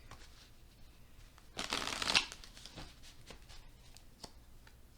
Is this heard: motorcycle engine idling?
no